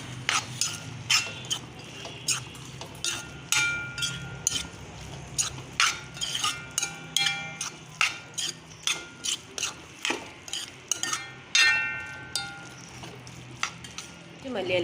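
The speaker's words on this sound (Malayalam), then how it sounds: "ഒന്ന് ഇളക്കി കൊടുക്കാം." A utensil stirs Maggi noodles with cabbage in a pan, making a steady, fairly close series of irregular clicks and scrapes that carries on throughout.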